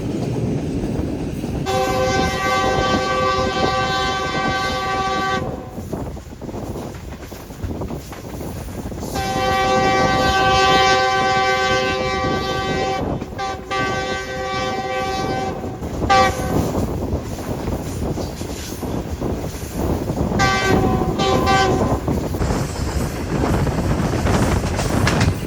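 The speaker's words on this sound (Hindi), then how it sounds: "तभी इतनी ज़्यादा हॉर्न बजाए गए हैं" A train horn blares in long sustained blasts, repeated several times with short gaps, over the steady rumble and clatter of a passing train on the Lahore–Karachi line in Pakistan.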